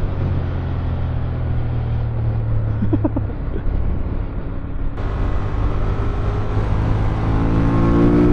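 A Ducati Monster 1200 S motorcycle engine droning steadily and loud, rising in pitch as it revs toward high RPM, a continuous close engine sound throughout with no talk.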